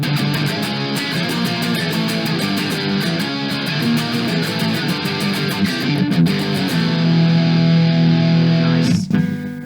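Distorted electric guitar through a Fender Mustang LT25 beginner amp on its skate punk preset, playing fast, loud, sustained power-chord riffing with rhythmic chugging, ending in an abrupt cutoff.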